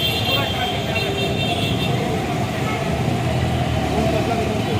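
Heavy traffic jams the road near a metro station, with a dense, steady rumble of idling cars and trucks and an occasional horn toot close by, while people talk over it.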